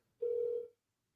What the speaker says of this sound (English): I'm just gonna call the first numbers